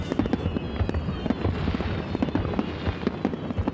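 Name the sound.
fireworks display in Omagari, Japan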